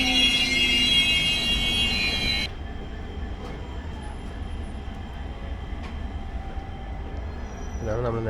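The 16217 Mysuru-Shirdi Express pulls out of a platform at daybreak in a simultaneous departure beside another train. A loud, high tonal whine drops away after a couple of seconds, leaving a steady, close rolling rumble.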